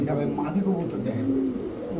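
Pigeons coo at a pigeon market, with breeds such as Pakistani Teddy, Rampuri, Damascene, Budapest and racer pigeons, and a red hen pigeon. The low, rolling coos run throughout, close by and partly masked by steady talk in the background.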